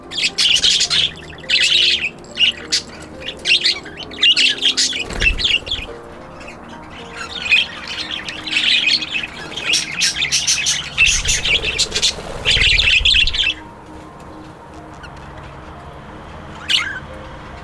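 Small birds chirp, tweet and squawk in bursts inside an open outdoor aviary, loud and close, with short pauses between busy flurries of calls.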